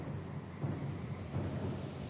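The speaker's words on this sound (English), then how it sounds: "over the din of the howling rain" Heavy rain with thunder, a dense steady wash of rainfall and a low rolling rumble, loud and continuous throughout with no voices.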